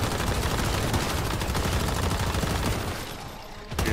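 Dense, continuous rapid gunfire from the video game Once Human, loud and sustained for several seconds before briefly dropping off and resuming.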